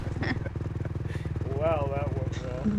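A motorcycle engine in the video game Fortnite putters with a steady low throbbing idle, then revs upward in a rising whine before settling, while players talk over it.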